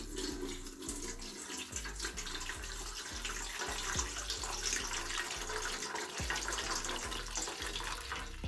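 Water runs steadily into a steamer pot for cooking seitan, a constant rushing splash with a faint rhythmic low thumping beneath, fairly loud and unbroken throughout.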